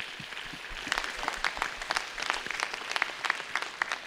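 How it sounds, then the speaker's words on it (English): A church congregation at a Sunday worship service claps together, a dense, lively patter of many hands that carries on steadily without speech. "Would you give each other a clap Amen."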